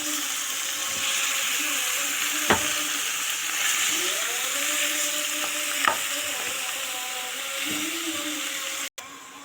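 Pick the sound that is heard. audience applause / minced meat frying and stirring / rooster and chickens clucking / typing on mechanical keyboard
minced meat frying and stirring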